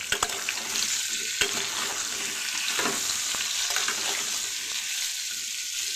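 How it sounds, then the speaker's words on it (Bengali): Vegetables frying with turmeric powder and a little salt for sukto, a Bengali mixed-vegetable dish: a continuous close sizzle with scattered stirring clicks and scrapes throughout. "দিয়ে দিচ্ছি কিছুটা হলুদ গুঁড়ো, অল্প কিছুটা নুন দিয়ে আমি অল্প করে ভেজে দেবো"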